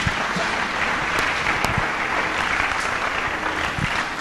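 A church congregation applauding to acclaim the Lord, dense sustained clapping from many hands filling the room at an even, loud level for the whole stretch.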